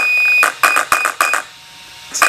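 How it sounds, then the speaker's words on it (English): An Arrma Infraction ESC gives programming beeps, close and clear: a longer tone followed by short quick beeps, then a brief pause and another beep. "you're going to hear a long beep followed by 3 short ones"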